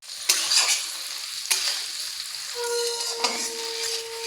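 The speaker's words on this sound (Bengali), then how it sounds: "এখন হাই ফ্লেমে পেঁয়াজ আর ক্যাপসিকামটাকে ভেজে নিতে হবে।" Onion and capsicum fry over a high flame for soya chilli, with a steady hot sizzle and a few sharp scrapes of stirring against the pan.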